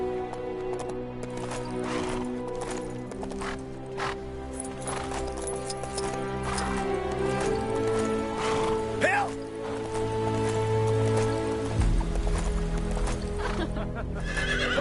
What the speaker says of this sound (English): Y'all ain't seen a herd of wild horses stampeding by.